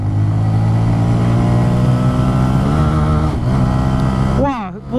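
A 2016 Honda MSX-125 SF (Grom) revs hard and accelerates on a test ride, its buzzy engine loud and close, rising through the gears before a voice shouts over it near the end.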